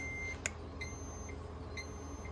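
Short electronic beeps from the controller of a Yong Heng compressor cooling system, a few faint tones spaced apart over a low steady hum in a quiet room.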